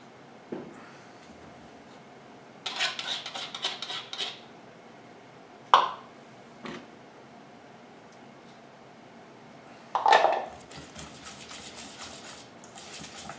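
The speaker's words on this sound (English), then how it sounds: "I'm going to whisk in the egg yolks next." Whisk clattering against a bowl while beating eggs and egg yolks into sugar for molten lava cakes, coming in short bursts of rapid metallic scraping with a few sharper clinks, close by over a low kitchen hum.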